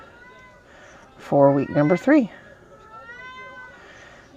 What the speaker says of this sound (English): you'll have to excuse my cat. She's in heat, so she's kind of freaking out right now.